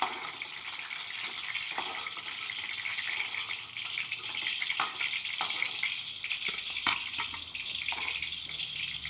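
Green beans frying in hot oil in a pan give a dense, steady crackling sizzle that is fairly loud and continuous, with a few scraping clicks from a utensil.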